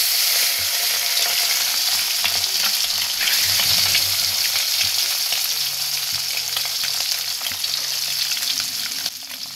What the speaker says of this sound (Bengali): এখন ডিমগুলা ভাজা হবে।